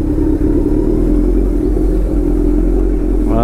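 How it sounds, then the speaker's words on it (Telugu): A motorcycle engine drones steadily at close range while weaving through heavy traffic, a low continuous hum with a faint rising tone near the end, no speech over it. "మన బైక్ కాబట్టి వెళ్ళిపోవచ్చు, ఇలా దూరిపోవచ్చు."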